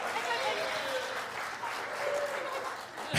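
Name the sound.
audience applause at talent show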